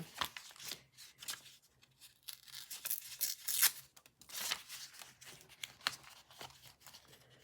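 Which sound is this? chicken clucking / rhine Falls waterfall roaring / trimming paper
trimming paper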